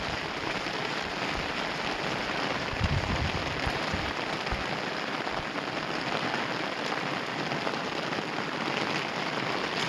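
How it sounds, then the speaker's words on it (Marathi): Heavy rain falling on a farm field used for an onion crop, a dense, constant roar of downpour that stays loud and even throughout with no talk. "पाऊस पण जोरात आहे"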